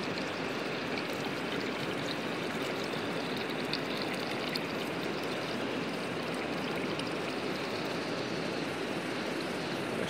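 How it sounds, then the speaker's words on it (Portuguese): Water drains and pours steadily from pool cleaning equipment clogged with leaves, a continuous close rushing splash that holds level for the whole stretch with no voices. "Deixar escorrer bem a água"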